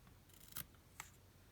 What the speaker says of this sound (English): And then I can take my scissors and go right back